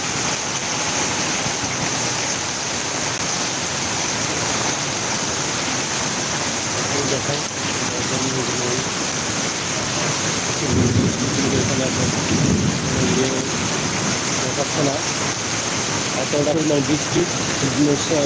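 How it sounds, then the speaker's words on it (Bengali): A heavy city downpour in the capital roaring continuously, broad and loud, heard from inside a building, with voices murmuring faintly partway through. "বাইরে যে পরিমাণ বৃষ্টি এতে ছাতাও মানে কিনা সন্দেহ আছে"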